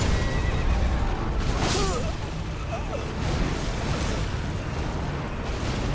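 A horse in a video game lets out a loud whinnying neigh over a dense wash of game noise and background rumble, with a shorter second neigh following a moment later.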